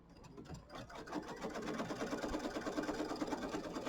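An embroidery machine stitches a tack-down line on quilt fabric in a small 5x7 hoop, giving a soft, steady mechanical whir with a fast rhythmic needle patter at low level.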